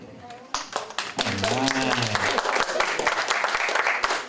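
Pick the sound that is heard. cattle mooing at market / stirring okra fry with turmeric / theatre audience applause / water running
theatre audience applause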